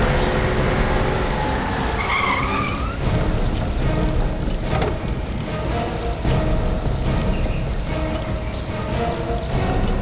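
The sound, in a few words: car arriving in the rain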